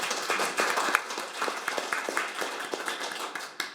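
A seminar audience applauds steadily with dense, continuous clapping that stays fairly even throughout, filling the hall without any voices standing out.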